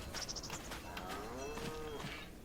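Cows moo in a farming video game, one drawn-out low moo rising and falling over soft ambient insect chirping and small clicks.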